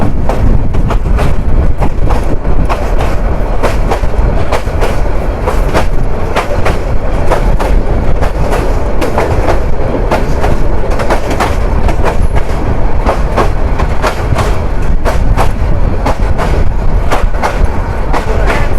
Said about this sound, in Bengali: 2 মিনিট স্টপেজ শেষ করে বাজিতপুর থেকে ট্রেন ছেড়ে দিল 11 সুন্দর প্রভাতী